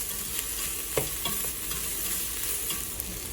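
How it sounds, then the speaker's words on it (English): Crushed garlic sizzling as it fries in a pan, stirred steadily with soft scraping strokes over a constant close frying hiss, with no talking. "You want to add some 3 cloves of crushed garlic cloves. And pretty much stir until you smell the garlic."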